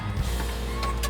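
A car's capsule canopy closes with a steady electric motor whine lasting about a second, near and fairly loud, with a faint mechanical clunk near the end.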